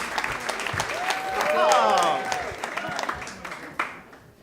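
An audience at a Moth StorySLAM storytelling event applauds as a storyteller is welcomed, with a host speaking over the clapping and a cheer or whoop rising in the middle.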